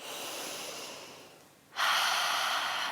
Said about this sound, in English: So just take a few breaths here.